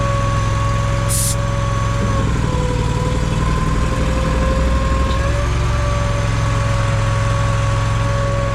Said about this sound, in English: I heard the compressor kick on